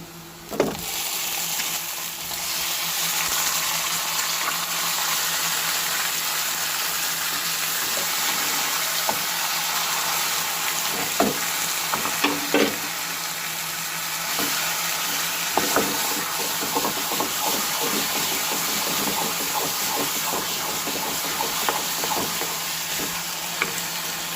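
Taro leaves sizzle as they fry in hot oil with whole dried chillies and green chillies in a pan, a loud, steady frying hiss with occasional scrapes and clinks of stirring, no talking.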